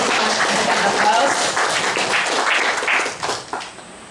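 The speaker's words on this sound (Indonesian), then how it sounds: "Mari kita berikan aplaus." Audience applause at a school gathering, a dense burst of clapping that holds steady for about three seconds and then thins out and fades.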